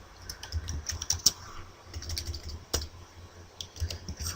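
A command being typed on a PC keyboard at a moderate pace, with soft, fairly close key taps, a few sharper strokes and a low hum underneath.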